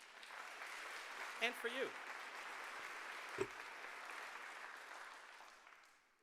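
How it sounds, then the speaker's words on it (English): Sustained audience applause at an evening civic gala fills the room steadily, with a brief spoken phrase and a short vocal burst rising over the clapping near the start. "So one more round of applause for them."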